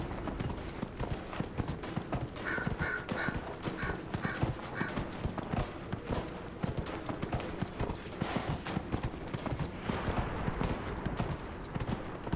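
Horse hooves clip-clop continuously at a brisk, even pace while riding in Dragon Age: Inquisition, with faint game ambience behind the close hoofbeats.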